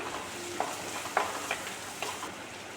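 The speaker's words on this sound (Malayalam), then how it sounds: "പിന്നെ ഇനിയും കൂടി വഴറ്റിയെടുത്തതിന് ശേഷം കുറച്ച് മഞ്ഞൾപ്പൊടിയും കൂടി ചേർത്ത് കൊടുക്കാം" Onions sauté in a pan with turmeric powder being added, giving a soft continuous sizzle broken by a few light utensil taps and scrapes, fairly quiet and with no talking.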